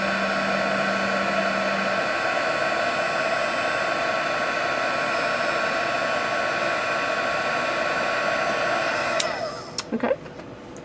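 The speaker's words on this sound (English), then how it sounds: "I'm going to take my heat gun and I'm going to heat set it real quick" Heat gun blowing hot air to heat-set ink on a domino pin, a steady loud whooshing drone with a fan whine that holds for about nine seconds, then cuts off into brief clatter.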